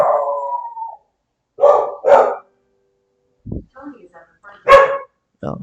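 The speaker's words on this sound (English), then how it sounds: "You have a good guard dog there." A guard dog barks at someone at the front door, a handful of loud close barks and a drawn-out howl-like yelp, with a voice briefly heard between them.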